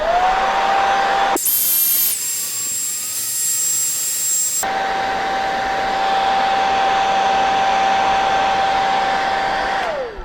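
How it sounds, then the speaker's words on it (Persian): A hair dryer on a low setting runs continuously to dry paint on an egg, a loud, close, steady whooshing hiss with a high whine that briefly jumps in pitch and intensity before settling back, then shutting off at the end. "با یه سشوار، من یه دونه سشوار گذاشتم کنار دستم، رو دور کم میتونین شروع کنین خودتون"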